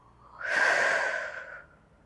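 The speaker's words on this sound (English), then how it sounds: "fully filling the lungs with air, feeling an expansion across the chest, the rib cage, the belly" A single deep yoga in-breath filling the lungs, a soft airy inhale that swells over about a second and then fades, close and alone with no talking.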